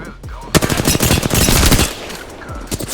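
Rapid automatic gunfire in a video game, dense bursts of loud close shots rattling one after another for about two seconds, then a few scattered trailing shots.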